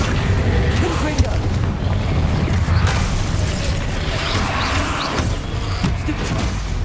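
Spells are blasted in Hogwarts Legacy, including the Confringo explosive curse, with loud booming bursts and rumbling impacts over dense game noise. A voice in the clip calls out the spell names.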